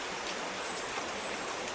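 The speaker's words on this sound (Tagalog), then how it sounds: "Oo nga, puro ulan." Steady rain pours down in a continuous, even hiss with no pauses, heard alone without voices.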